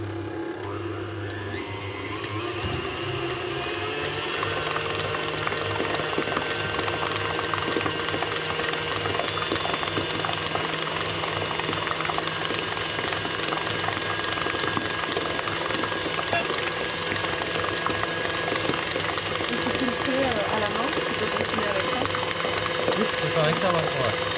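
A mixer runs steadily, cooling choux pastry dough as it turns in the bowl, a continuous mechanical whir with a low hum that holds for the whole stretch, with no speech over it.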